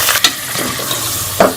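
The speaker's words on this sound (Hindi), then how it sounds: "बीफ का कलर चेंज होने तक हम इसे भून लेंगे" Beef and onions frying in a pot for haleem, a loud close sizzle running throughout with a couple of quick scraping stirs of a spoon.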